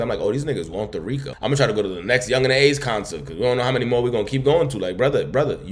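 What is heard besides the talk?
No distinct noise like a dog, phone or traffic.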